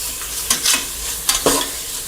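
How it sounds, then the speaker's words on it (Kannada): Tomatoes fry in a pan for tomato bath, heard as a close, steady sizzle broken by a few louder scraping stirs, with no voices. "ಈಗ ಮತ್ತೆ ಈ ಥರ ಫ್ರೈ ಮಾಡ್ಕೋಬೇಕು"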